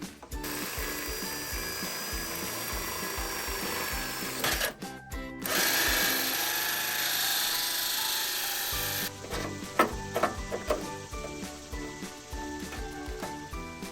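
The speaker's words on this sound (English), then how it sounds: "and get that drilled out" A power drill grinds and whirs through a metal electrical meter base box in repeated bursts, pausing briefly before a harsher, sustained stretch of drilling.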